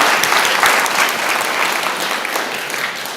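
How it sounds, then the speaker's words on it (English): Crowd applause at a community summit, dense steady clapping from an audience, loud and close, fading slightly over a few seconds. "give yourselves a round of applause"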